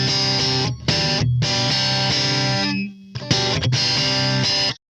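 Electric guitar riff played through a Nano Cortex modeler with a solid state compressor and an exotic boost, chunky driven chords in choppy bursts separated by brief gaps, loud and close.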